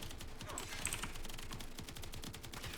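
Rapid, dense gunfire from the Azima weapon's secondary fire mode in Warframe, a continuous stream of sharp shots at steady loudness throughout with no talking.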